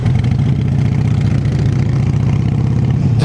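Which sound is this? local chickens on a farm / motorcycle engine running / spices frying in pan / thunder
motorcycle engine running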